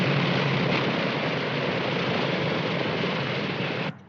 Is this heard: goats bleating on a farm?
no